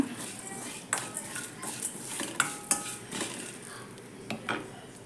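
A spatula scrapes and taps in a pan as herbal areca nut powder, made with betel leaf, tulsi, curry leaves and mint, is stirred and roasted, sparse metallic clinks over a soft dry rustle, with a voice talking.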